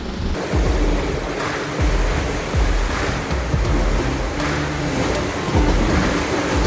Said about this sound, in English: The sea has become quite chaotic with the squall we had in the second part of the night.